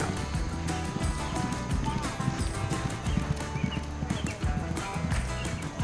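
Racehorses training at the Keeneland track clip-clop past in a quick, uneven rhythm of hoofbeats, fairly close and continuous, with people talking over them.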